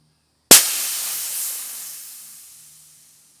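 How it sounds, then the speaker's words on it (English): A sudden sharp burst of air hisses from a fill line between the fill source and a Huntsman Regal XL .22 air rifle as it is bled, then trails off steadily over about three seconds. "bleed the air between your fill source and your gun"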